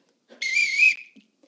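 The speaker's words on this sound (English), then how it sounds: "Whistle blew" A single sharp whistle blast, bright and sustained for about half a second, sounds close and loud in an otherwise quiet moment, with no voices.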